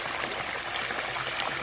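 Water streaming from four arcing streamer jets on a garden water feature, a soft continuous trickle and splash, steady and fairly quiet with no talk.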